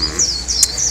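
Birds in the Mong Kok bird market in Hong Kong give a steady stream of high, thin chirps and tweets, close by and fairly loud, over a constant background din of the market.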